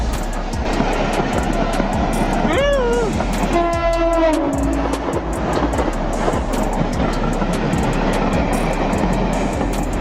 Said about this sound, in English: Your train has well and truly arrived.